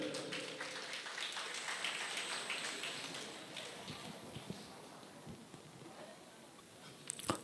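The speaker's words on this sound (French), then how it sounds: "Merci de l'applaudir" Applause at a student beauty pageant evening, a broad wash of clapping that gradually thins into sparse individual claps, followed by a brief louder burst at the end.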